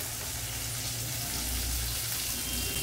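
Onion petals frying in hot oil in a pan make a loud, steady, hissing sizzle that holds unbroken throughout, close up and with no voices.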